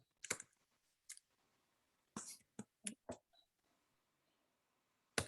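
Short bursts of computer keyboard typing as a message is entered into a chat, clusters of quiet key clicks separated by silent pauses, close and faint.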